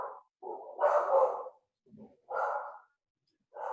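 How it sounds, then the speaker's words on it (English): A dog barks in a few separate bursts from a tape recording, played quietly with short gaps of near silence between the barks. "That's a tape recording I have. Because I don't have a dog."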